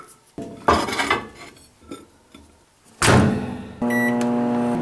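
Plates and cutlery clatter and a door knocks, then a microwave oven heating corn dogs starts up with a steady, loud electric hum and a faint beeping tone.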